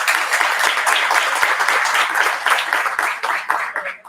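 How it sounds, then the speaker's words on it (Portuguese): Audience applause at a book launch, steady dense clapping that holds for about four seconds before thinning out at the end. "Uma salva de palmas políticas."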